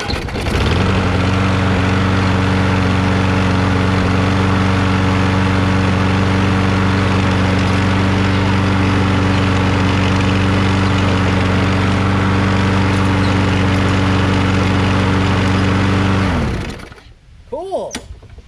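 The Briggs 6.75 Quantum engine on a Troy-Bilt 21-inch self-propelled lawn mower, just after a carburetor cleaning, starts and runs with a loud, steady, even drone for about sixteen seconds before cutting off abruptly.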